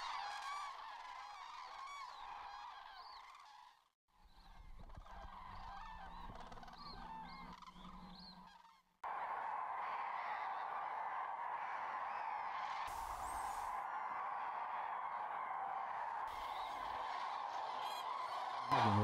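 Common cranes calling at Hortobágy, a loud chorus of honking, trumpeting calls that overlap continuously, with a brief lull partway through before a fuller, denser flock resumes.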